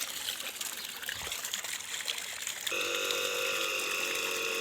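A pump motor pushes water through a pipe toward a rooftop tank, first a soft trickling rush, then a steady tonal motor hum joins partway through, continuous and fairly quiet.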